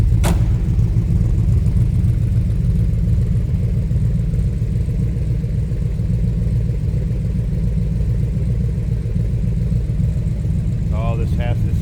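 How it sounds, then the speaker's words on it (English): A Factory Five replica of a 1965 Shelby Cobra idles with a steady, loud low rumble and a slightly lumpy pulse, close by and unbroken, with a brief voice near the end. "I wanted you to hear it idle."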